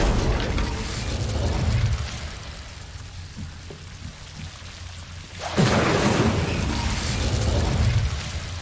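In Hogwarts Legacy, casting the Incendio fire spell sets off a sudden loud whooshing burst of flame that roars and crackles for a few seconds. Before it, a quieter stretch carries light rattling effects.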